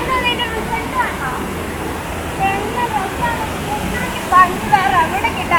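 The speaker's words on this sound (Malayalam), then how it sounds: "ആ സൈഡിൽ നിന്നും ഈ സൈഡിൽ നിന്നും ഇപ്പുറത്തെ സൈഡിൽ നിന്നൊക്കെ വെള്ളം ചാടിക്കൊണ്ടിരിക്കുക" Water tumbles down from several sides at Mulliringadu, a steady full rush of falling water close by, with voices talking over the noise throughout.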